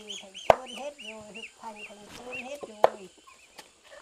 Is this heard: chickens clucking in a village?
yes